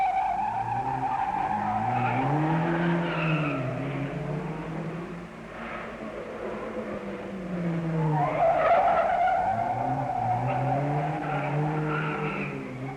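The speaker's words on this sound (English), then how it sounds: "And Eric Carlson is still ahead of Lang as they clear the gasworks hairpin at the start of their first timed lap of the fall." 1962 Rally Grand Prix cars skidding through the gasworks hairpin, with loud tire squeal and engines rising and falling in long sweeping tones, close by and continuous.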